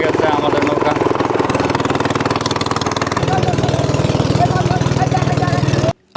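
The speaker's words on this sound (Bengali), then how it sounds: "চালু হয়ে গেছে আমাদের নৌকা।" A petrol boat engine runs steadily on the Matamuhuri River, a loud continuous mechanical drone with rapid regular pulsing that deepens and strengthens partway through, then cuts off abruptly near the end.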